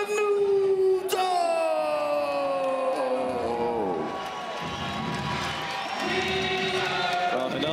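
A Las Vegas arena crowd at a grappling invitational cheers for hometown hybrid jiu-jitsu fighter Renato Canuto, with a loud, steady roar throughout and a long, drawn-out sustained voice ringing over it.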